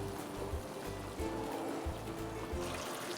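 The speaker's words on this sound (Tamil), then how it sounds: "இந்த தண்ணி சேர்த்து நம்ம கொஞ்சம் கொதிக்க வைக்கிறது" Water is poured into a hot pan of spiced tempering for bread upma, producing a steady close trickling and bubbling rush with no talking.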